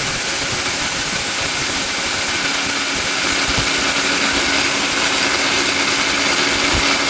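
A powerful kitchen blender runs continuously at close range, a loud, steady motor whir with a hissing edge and no talk.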